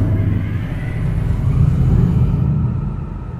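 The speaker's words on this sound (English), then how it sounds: "I combined the sounds of a car engine, a diesel generator, and the spinning up of a hard drive" Layered sound design blending a car engine, a diesel generator and a hard drive spinning up forms a dense, steady low rumble with a faint whirring top, swelling slightly before easing off.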